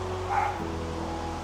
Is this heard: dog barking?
yes